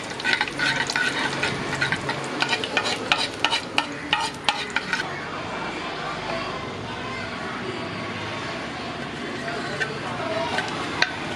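Half a teaspoon of cumin seeds dropped into hot oil for chana masala, giving a steady close sizzle and crackle with rapid tiny pops and stirring clicks, strongest early, under a faint voice.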